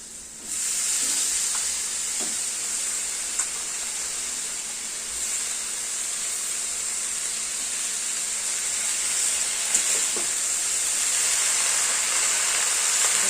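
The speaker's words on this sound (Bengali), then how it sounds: "এবার দিয়ে দেবো কাটা পুঁই শাক এটা লাল পুঁই শাক" Chopped red Malabar spinach lands in a pan of spiced vegetable curry, raising a steady, close hiss of sizzling and steam that runs unbroken for over ten seconds, with a few faint clinks of stirring and no talk.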